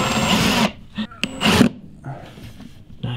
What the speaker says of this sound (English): Now Riley's gonna screw it in for us.